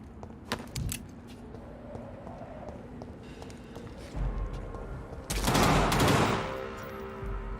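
Semi-automatic gunfire in the video game Vampyr, with short bursts of shots cracking over quieter in-game ambience, followed by a loud, longer blast near the end.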